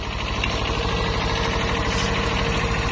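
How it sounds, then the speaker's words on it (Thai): A Kubota two-cylinder tractor engine idles close by, a steady low chugging rhythm that holds even throughout with no voices. "เป็นคูเบต้านะผมเคเฮด ขีดห้าครับผม เครื่องยนต์สองสูบนิ่มๆครับ"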